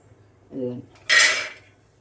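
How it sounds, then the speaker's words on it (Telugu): Peanuts dropped into a dry thick-bottomed pot for roasting, a short scrape followed by a bright rattling clatter, close and alone. "ముందు వేరుశనగ గుళ్ళు వేపేసుకుందామండి"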